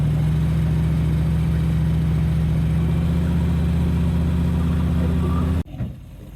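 A 1965 Impala SS fitted with Holley Sniper fuel injection cruises down the road, its engine a loud, steady low drone with constant rumble, ending abruptly in a brief quieter moment.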